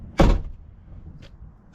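The door of a 1997-2004 C5 Corvette shuts nearby with one solid thud under reasonable force, followed by a couple of faint clicks.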